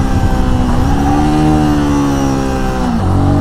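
A Royal Enfield Guerrilla 450 motorcycle engine revs loudly and close up through an aggressive downshift, its pitch sweeping in steady harmonic bands and dipping sharply near the end, with no voices.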